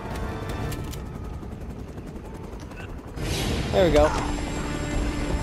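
A helicopter in Uncharted: Drake's Fortune lifts off, its steady rotor and engine roar swelling midway and holding loud alongside game effects, with a voice speaking briefly over it.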